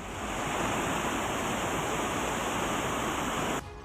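The floodwater of the Dhundh river, running above the danger mark, rushes in a loud, steady, dense roar that continues without a break before cutting off abruptly near the end.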